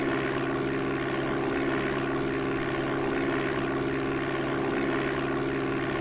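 A small propeller aircraft's engine drones steadily at full power during takeoff in the Amiga game Flight Simulator II, a constant buzzing hum with no pauses.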